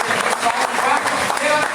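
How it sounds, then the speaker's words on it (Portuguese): Applause from a congregation during a church service: a dense, steady wash of many hands clapping at once, filling the short moment at even loudness. "dê um forte aplauso ao Senhor"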